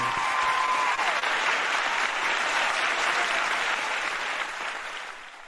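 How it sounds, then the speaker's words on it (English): Sustained applause from an audience at a peace festival, honoring a group from Thailand; dense, steady clapping holds loud throughout and tapers slightly near the end, with no talk over it. "please give another round of applause for you from Thailand"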